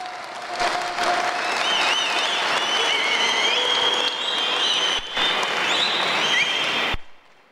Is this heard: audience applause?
yes